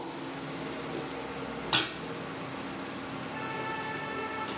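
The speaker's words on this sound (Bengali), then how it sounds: "আদাটাকে খুব বেশি ভাজবো না, লো ফ্লেমেই রান্নাটা করতে হবে" Ginger frying gently in a pan over a low flame, giving a steady soft sizzle throughout with one brief sharper crackle near the start, close and fairly quiet.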